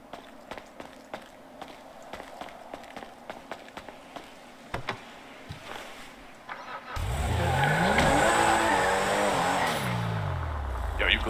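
An extremely fast car in a GTA roleplay game, first quiet footsteps and clicks, then the engine roars in loudly and revs up and down through rising and falling pitch sweeps, close and sustained.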